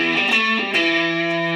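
A sustained, heavily distorted electric guitar chord rings through a Black Op distortion pedal, a Rat-style fuzz on an Avid Eleven Rack, buzzy and saturated with a couple of quick pick re-attacks, loud and alone.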